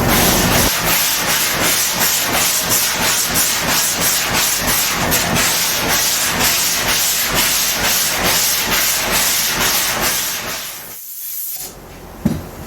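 Hand block sanding of primer on 1953 Ford F100 fenders: a steady, loud scratchy hiss with rhythmic back-and-forth strokes throughout, close up, ending in a brief pause and a light knock.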